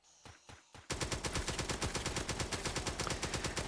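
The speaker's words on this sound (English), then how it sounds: "I think they're kind of like cute little turrets, make these little popping sounds." Turrets fire at zombies in the Roblox game Zombie Rush Survival: a few separate shots, then a rapid steady stream of sharp popping bursts, dense and even, with no voices.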